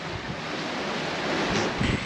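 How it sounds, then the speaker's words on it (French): Waves breaking and gusting wind at sea aboard a sailboat making about eight knots, a steady loud roar of wash and wind noise buffeting the microphone, with no talk. "Des belles rafales de vent comme je disais."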